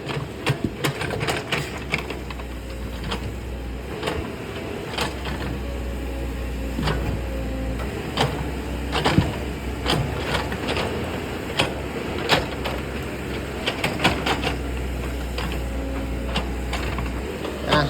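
A new sewing machine running in bursts, with rapid needle clatter and sharp mechanical clicks over a low motor drone, close and fairly quiet, pausing and restarting without any talking.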